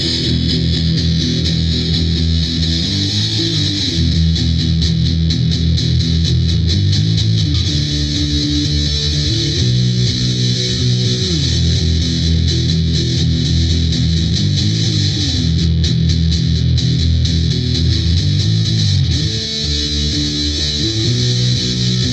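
A distorted electric guitar plays continuously, thick and loud, with sustained chords and riffs ringing throughout.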